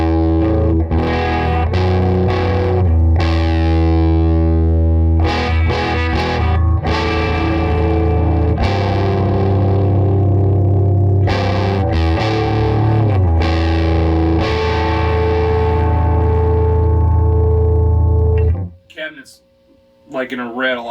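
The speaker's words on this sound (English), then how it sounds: "let's try a different guitar, and I think this one might be in a weird tuning" Electric guitar in an unusual tuning played through a Trinity Amps tweed-style amp, giving a loud, driven tone with strummed chords and riffs for most of the stretch, ending abruptly in a brief pause and some handling noise.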